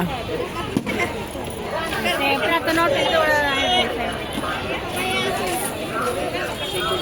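Crowd chatter at a village fair with snack stalls, a dense steady babble of many voices with footsteps and bustle throughout, fairly close and continuous.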